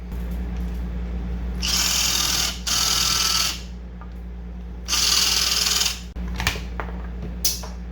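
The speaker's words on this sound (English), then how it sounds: "We're just gonna drill it carefully." A high-pitched power drill drills out a rivet on a 1973–87 Chevrolet/GMC truck vent window, running in three short bursts separated by pauses, followed by a few metallic clicks and taps.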